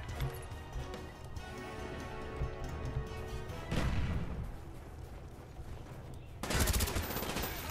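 Rapid automatic AK rifle fire in the video game Black Ops 1, dense sustained bursts with a sharper, louder volley near the end and no talking.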